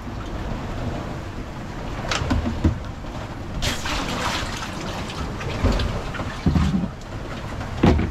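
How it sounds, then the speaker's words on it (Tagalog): Steady rain falls in a broad, continuous hiss with scattered louder splashes and patters, close and fairly loud throughout, with no voices. "Ulan."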